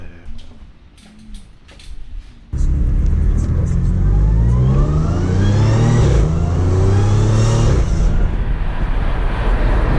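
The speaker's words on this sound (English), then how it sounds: "It's like medium throttle. Nothing too crazy. That is a downshift." An Audi B8 S4 3.0T fitted with a cold air intake is heard at medium throttle. Quiet idle gives way abruptly to a loud, close engine note that climbs steadily in pitch, then drops on a downshift and pulls again.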